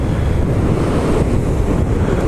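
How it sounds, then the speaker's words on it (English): Strong wind buffets the microphone in a constant roar, with surf and waves rumbling underneath; no voices. "I hope you can hear me because it's really windy"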